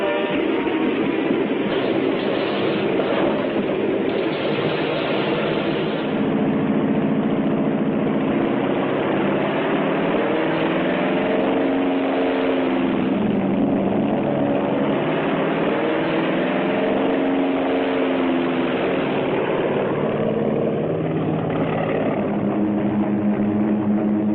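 Engines on World War II carrier aircraft start up and settle into a steady, loud mechanical drone that holds with no break, close and continuous with no voices.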